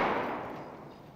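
A grenade blast in the shooter game Escape from Tarkov, caught as a broad rumbling roar that fades steadily over about a second, moderately loud with no talk over it.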